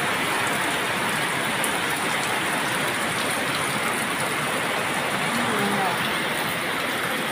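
Heavy typhoon rain at dawn pours steadily and loudly, a dense continuous hiss with no pauses, close by and unbroken for the whole stretch.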